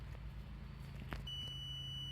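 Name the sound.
multimeter continuity tester beeping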